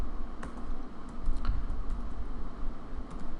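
Keys clatter on a computer keyboard in quick, irregular typing, close and crisp, with a few sharper clicks standing out over a low background hum.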